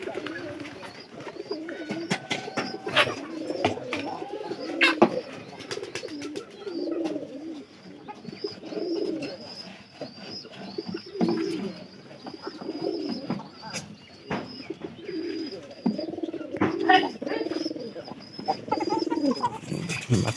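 Pigeons in a home loft coo steadily in repeated low, throaty bursts across the whole stretch, close and fairly loud, with faint chirps and occasional clatter mixed in.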